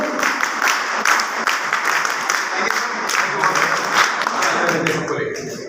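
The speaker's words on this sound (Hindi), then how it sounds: "గట్టిగా జోర్ से तालियां" An audience at a health talk bursts into loud, rhythmic group clapping, with sharp claps falling in counted beats while voices call out over the applause.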